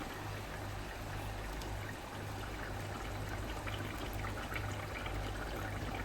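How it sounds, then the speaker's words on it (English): A blended paste of onion, garlic, pepper, chilies and ginger pours steadily into a pot for a Ghana tomato stew, a continuous wet rushing with a low hum underneath, close by and with no talk. "Next, I am going to add in my blended onion, garlic, pepper,"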